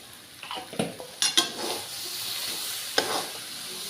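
Cooked banana flower being stirred with ghee in a pan, giving a few scraping spoon strokes and light clinks over a soft sizzle, close and moderately quiet, with no talking.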